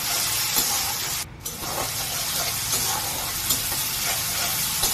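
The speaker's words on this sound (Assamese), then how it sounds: "এতিয়া মই গোটাইকেইটি একলগতে ফ্ৰাই কৰি আছোঁ।" Tomato, chili, ginger, garlic and spices frying together in a pan, a steady loud sizzle with stirring scrapes throughout and no talking.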